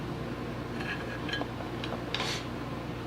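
Small metal parts of a Winchester 1895 lever-action rifle, its sear and locking block, clink and tick lightly a few times as they are worked loose during disassembly, close and faint over a low steady hum.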